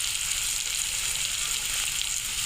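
Chilies sizzling and frying in a pan for a four-vegetable bhaji, with a steady bright hiss of hot oil throughout and a soft voice faintly underneath.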